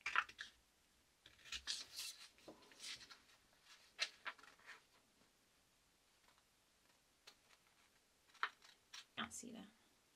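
Scissors cutting out small paper decals covered in clear tape, with quiet irregular snips and rustling clusters separated by pauses.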